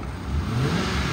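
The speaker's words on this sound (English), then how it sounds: "Motor sounds good." A 2008 Ford Crown Victoria Police Interceptor engine running, a steady close low hum with a slight rise in revs, no talking.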